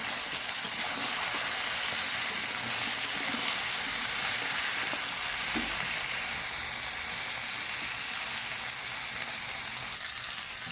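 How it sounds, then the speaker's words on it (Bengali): Brinjal, potato and kochurmukhi (taro) pieces fry in hot oil in a pan, giving a steady, close, continuous sizzle with faint stirring scrapes and no voices. "বেগুন, আলু আর কচুরমুখিটা দিয়ে দিয়েছি, ভালোভাবে ভেজে নেব"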